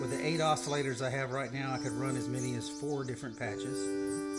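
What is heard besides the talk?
None of the usual background noises is heard.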